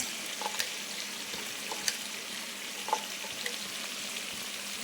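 Chopped onions and chicken sizzle in oil for a spicy Telangana-style chicken fry, a steady hissing crackle with a few faint clinks and taps from the pan, no voices.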